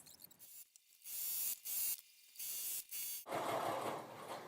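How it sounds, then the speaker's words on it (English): A sewing machine stitches across the top and bottom edges of a pillowcase, closing the casings, in several loud bursts of steady whirring separated by short pauses, ending in a longer, rougher run. "now stitch across the top edge and the bottom edge, closing in your casings"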